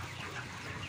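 Dense, steady murmur of many 33-day-old broiler chickens inside a closed, fully automatic poultry house, a continuous low clucking chatter heard up close without any voices.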